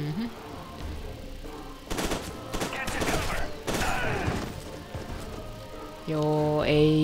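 Rapid gunfire bursts in the first-person shooter FEAR 2: Project Origin, several loud volleys in the middle with game noise and tonal effects around them, no talk.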